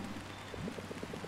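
Steady, soft rain falls in the video game Until Then, a quiet diffuse hiss with faint tonal patter running through it, no voices.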